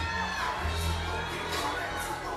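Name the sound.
basketball arena crowd cheering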